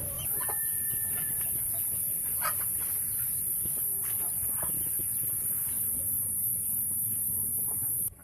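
Farm chickens, some of them struck by disease, cluck and murmur continuously close by in their coop, with scattered brief calls over a low, busy background.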